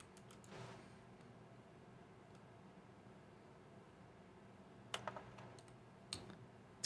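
In the video game The Stanley Parable, the menu gives off sparse keyboard-like clicks. A short cluster of taps comes at the start, then a long quiet hiss, then two more small bursts of clicks near the end, all faint.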